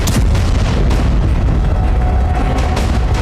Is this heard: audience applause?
no